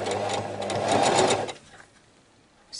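A domestic sewing machine runs at a steady buzzing stitch through three layers of fabric while a child's ribbed-waist circle skirt is sewn, then stops abruptly, leaving near silence with a faint click at the end.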